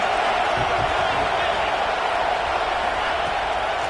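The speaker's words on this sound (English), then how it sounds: "This crowd ready to make its presence known." A football stadium crowd keeps up a continuous roar of noise, with a commentator's voice talking over it.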